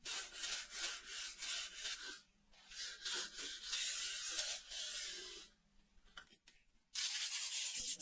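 Sanding along the wood veneer edges of a restored 1950s desk clock, heard as steady rhythmic rasping strokes in close bursts, with short pauses between passes.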